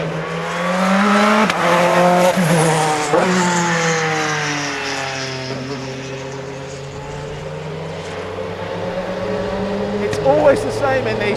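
A 615 bhp Bentley Speed 8 Le Mans race car weighing 900 kg, engine rising and falling through gear changes as it takes a slow corner, loud and close with a strong harmonic howl.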